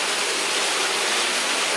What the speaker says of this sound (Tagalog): Jerry doing the climb of a tight waterfall.